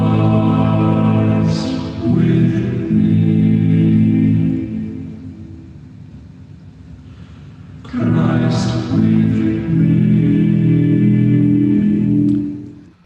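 A choir performs The Deer's Cry from bar 4, holding full, resonant chords in two swelling phrases with a quieter sustained stretch between them, voices blended closely and no talking.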